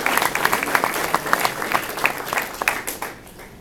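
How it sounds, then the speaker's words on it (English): An audience at a university scholarship award ceremony applauds the awards and prizes committee, a lively crowd clapping with scattered sharper claps, tapering off near the end. "One more round of applause, please, for Professor Parker and his colleagues on the Awards and Prizes Committee"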